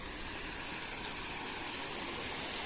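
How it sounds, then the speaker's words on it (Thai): A forest stream in Thailand flows steadily with an unbroken rushing, gurgling wash of water that stays close and fairly loud throughout, with no voices. "เป็นลำธารนนะ"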